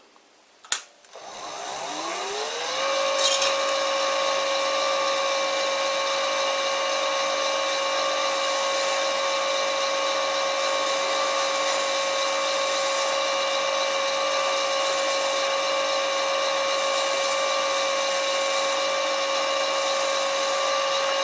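An old metal lathe on a new VFD spins up with a click and a sweeping rise in pitch, then holds a steady, loud whining hum with sharp high tones while a high speed steel tool turns a taper, unbroken by talk.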